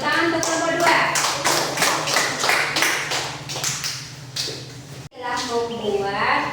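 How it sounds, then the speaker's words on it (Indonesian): Applause from a classroom of students for group 2, a dense patter of hand claps lasting several seconds, a brief gap, then more clapping with voices mixed in. "Tepuk tangan untuk kelompok 2."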